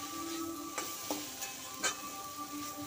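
Bottle gourd leaves are stir-fried with salt and turmeric, giving a soft, even sizzle under a faint steady hum, with a handful of light stirring clicks spaced through it.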